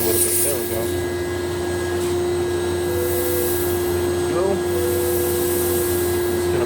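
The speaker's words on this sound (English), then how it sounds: "So basically, we're purging all the components into my recovery machine" Refrigerant from a chiller purges into a recovery machine, producing a steady, loud mechanical drone with a constant whining tone throughout, and a voice briefly audible beneath it.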